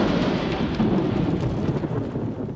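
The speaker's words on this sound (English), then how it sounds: "It also offers them protection from the storm." Thunder rolls in the Tatra mountains of Slovakia over steady heavy rain, a dense continuous rumble and hiss heard up close throughout.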